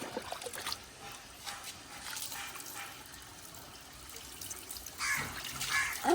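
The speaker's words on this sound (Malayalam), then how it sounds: "വെള്ളം ഒഴിക്കാം നമുക്ക്." Water trickles and splashes softly over a pet dog being bathed, a faint, uneven pour with small bursts of movement and a louder splash near the end.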